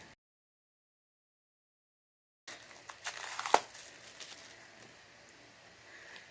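Cellophane wrapping on a new Druidcraft Tarot deck is torn and crinkled off by hand, starting after a silent pause as a burst of crackling rustles with one sharp snap, then softer crinkling.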